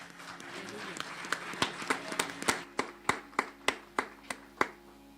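Congregation clapping during a church worship service, a sharp, steady series of about a dozen strong claps in an even rhythm over a low hum and faint background voices.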